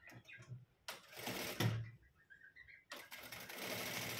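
A sewing machine stitching a cross strip on a blouse, with bursts of fast mechanical whirring that start and stop, some handling clatter between runs, close up and fairly quiet.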